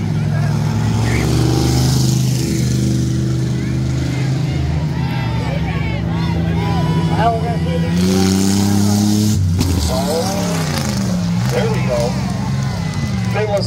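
Race cars crashing into the wall on the front straightaway of Midvale Speedway during a trailer race, engines droning and revving under continuous excited commentary, with a burst of crunching impact partway through.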